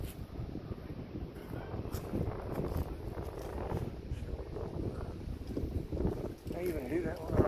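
Wind gusts steadily outdoors at Saunders Springs, a continuous broadband rush that swells and eases slightly, with faint voices and movement noises underneath.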